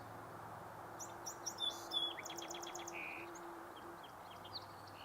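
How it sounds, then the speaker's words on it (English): A song sparrow sings outdoors at a provincial park in early May, a faint, distant series of quick chirps and trills with a buzzy ending over a quiet background hum. "Song sparrow."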